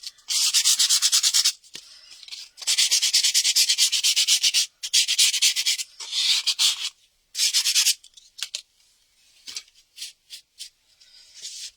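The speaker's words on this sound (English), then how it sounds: "Maybe you can sand a little bit the borders." Repeated bursts of sandpaper rubbing along the edges of a surfboard, several long strokes then shorter scratchy passes, close and fairly loud with pauses in between.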